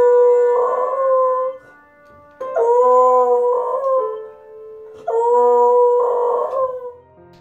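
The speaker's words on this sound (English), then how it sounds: "The endearing rescue beagle Basset Hound mix loves to play piano and sing" A rescue beagle and Basset Hound mix howls in long, close, tuneful notes, three sustained wavering howls with short pauses between them and piano tones underneath.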